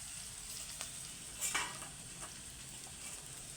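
Cumin seeds and cut chilies frying in oil, a faint continuous crackling sizzle with occasional light stirring scrapes, no voices.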